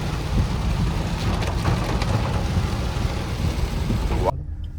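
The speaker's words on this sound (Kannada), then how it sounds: "ಈಗ ಮಳೆ ಆಗೈತಿ" Steady rain hisses outdoors in Wayanad with a low rumble like a passing vehicle underneath, continuous until it cuts off abruptly near the end.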